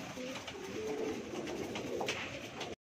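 Pigeons cooing and fluttering close by, a steady soft murmur of several birds with a few brief flaps, ending abruptly.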